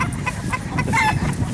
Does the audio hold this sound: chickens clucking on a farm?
yes